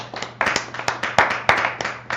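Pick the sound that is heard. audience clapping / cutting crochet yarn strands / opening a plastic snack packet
audience clapping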